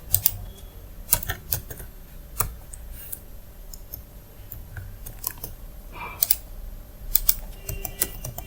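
Code typed on a computer keyboard produces scattered, sharp close clicks in irregular clusters with pauses between them, over a faint steady room hum and no speech.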